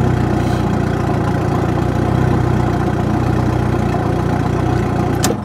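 A turbocharged Honda Integra engine runs at a steady idle, a loud, even mechanical drone that holds unchanged throughout, with a brief sharp tick near the end.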